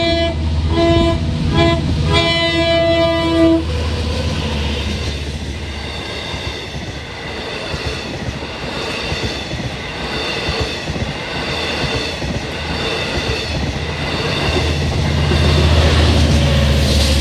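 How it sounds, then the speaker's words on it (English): A westbound Long Island Rail Road train with two engines rumbles past close by, a horn toots at the start, then rolling wheels and rattling cars roar continuously, swelling louder near the end. "a westbound extra making its way with a couple of engines"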